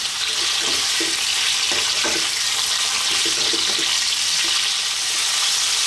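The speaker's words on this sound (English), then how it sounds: "Let's fry this around. Just get a little bit of colour on it, just for like 3 to 4 minutes." Mutton browns in a hot pan for a curry, giving a loud, steady sizzle and crackle that never lets up, broken only by faint scrapes of stirring.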